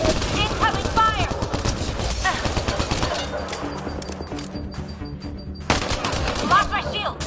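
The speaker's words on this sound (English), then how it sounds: "Incoming fire!" Sustained automatic gunfire and rapid shots from the video game Mass Effect: Andromeda, with a brief lull in the middle before the loud bursts resume, mixed with game effects.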